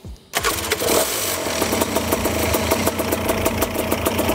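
A Fly Products Premier trike aircraft engine cranks and catches after a brief quiet moment, then settles into a steady close, loud idle with a rhythmic pulsing throb.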